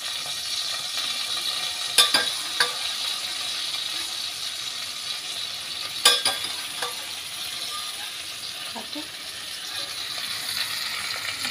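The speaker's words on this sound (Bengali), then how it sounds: "এবারে এর মধ্যেই একবারে মূলো আলু দিয়ে আমি সেগুলোকেও ভেজে নেব" Radish and potato fry in a pan with tangra fish, giving a steady, moderate sizzle with a couple of sharp clinks of a utensil against the pan and a few fainter scrapes.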